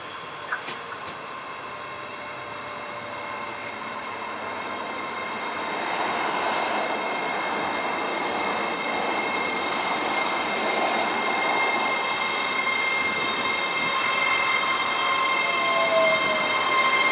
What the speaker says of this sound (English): Then this was the 1125 ScotRail service to Glasgow Queen Street from Edinburgh with 385124 getting the honours.